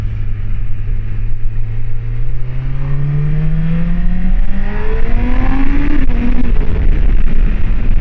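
Honda CBR1000RR SC77 motorcycle exhaust while riding, a loud rising engine howl that climbs steadily through the revs then cuts off with a sharp shift, followed by continued engine and road noise.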